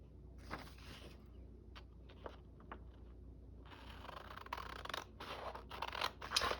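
Scissors trim paper for a painted December daily journal spread, with several short snipping cuts that start faint and grow louder and denser toward the end, alone with no talk.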